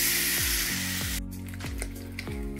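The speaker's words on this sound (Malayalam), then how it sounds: "ഇനി നമുക്കിതിലേക്ക് നമ്മൾ എടുത്തു വച്ചിരിക്കുന്ന അരപ്പിൻ്റെ കൂട്ട് ഒഴിച്ചു കൊടുക്കാം" A ground masala paste is poured into a hot, sizzling pan while cooking seer fish (neymeen) head curry. A loud, bright sizzle cuts off abruptly after about a second, leaving a softer crackle over a steady, repeating tonal background.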